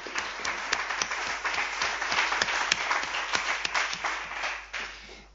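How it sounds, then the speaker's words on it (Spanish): Steady applause from a seated audience at a public talk in Madrid, a dense wash of many hands clapping continuously at moderate volume, thinning slightly at the very end. "Le damos un aplauso."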